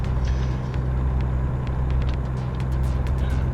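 Truck engine droning steadily at highway speed, about 70 mph, in American Truck Simulator, with a constant low rumble and light road hiss and no voices.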